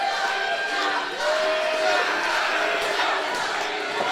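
A wrestling event crowd shouts and roars steadily in an arena, a dense, loud wall of voices holding for several seconds without a break.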